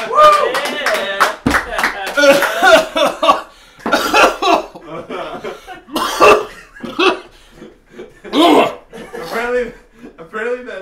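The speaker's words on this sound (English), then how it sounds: "that pepper just turned you into like an old man coughing" Several harsh, hacking coughs burst out between bouts of speech and laughter, close and loud, with a voice talking throughout.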